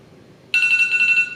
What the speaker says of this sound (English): that's my alarm ringing